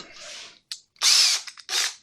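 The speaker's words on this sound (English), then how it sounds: "I'm just going to drill a shallow hole" A power drill whirs in several short bursts, the middle one longest and loudest as it bores into wood, close by.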